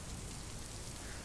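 Rain patters without pause in TONIN Bunny Kunoichi, a thick, even wash of falling drops hitting the ground, heard alone with no speech over it.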